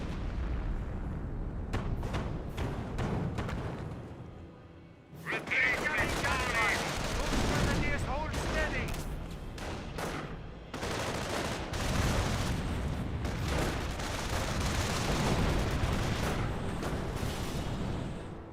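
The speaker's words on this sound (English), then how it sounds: "Sounds like one AT gun does get destroyed." Heavy gunfire and booming artillery in a Company of Heroes battle as an anti-tank gun is destroyed, with dense bursts of shots and blasts, a brief lull, then renewed loud firing under faint talk.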